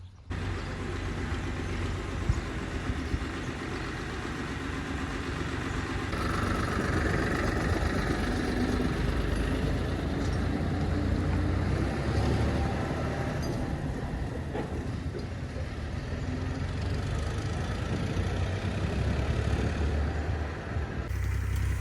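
A tractor engine rumbles steadily nearby, a low continuous drone running throughout without voices.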